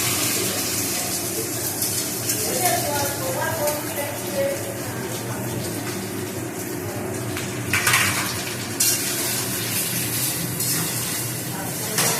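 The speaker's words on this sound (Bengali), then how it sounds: "আমগুলো দিয়ে একটুখানি নাড়াচাড়া করে নেবো।" Mango pieces with a little sugar being stirred in a pot, with steady clattering and scraping of a utensil against the pot over a continuous wet, watery background.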